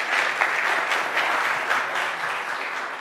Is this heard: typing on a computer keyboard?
no